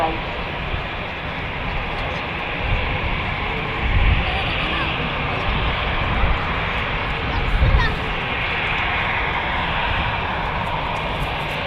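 An airliner taxis past the Premier Terminal building at Manchester Airport, its engine noise a steady, broad roar at moderate distance with slight swells, while a voice talks over it throughout.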